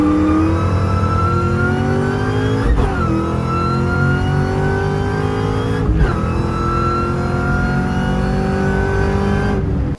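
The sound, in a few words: engine whine of Terminator Cobra revving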